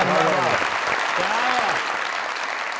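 Loud, steady applause from a studio audience at a Pakistani comedy talk show, filling the whole stretch with a dense wash of clapping as a voice rises and falls over it.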